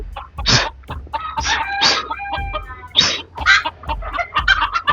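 Rare ornamental fancy chickens cluck on a farm, housed in separate cages by breed for egg laying; several nearby birds give repeated, overlapping clucks and short squawks in uneven bursts.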